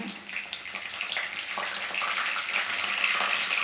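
Curry leaves hit hot oil for egg masala with a bright, steady crackling sizzle that builds and holds, close and fairly loud, with faint speech beneath.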